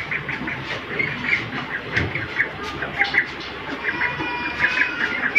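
A group of ducks quacks and squawks nearby in a steady, overlapping chatter, with occasional louder calls over faint background noise.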